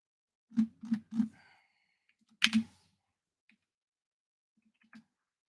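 Keystrokes on a computer keyboard while entering a Google search: a quick burst of three taps, a pause, then a louder double tap, followed by a few faint isolated clicks, all close and with no talking.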